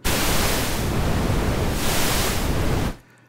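Loud, steady broadband noise hiss from a synthesizer module, brighter pink noise shifting to deeper, darker brown noise, then cutting off abruptly.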